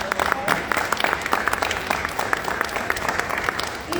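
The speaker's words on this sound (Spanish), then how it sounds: "les pido un aplauso para ti" Audience clapping to welcome a speaker at a talk on migration and identity, a brisk, even burst of many hands that stays full and steady throughout, with a few voices underneath.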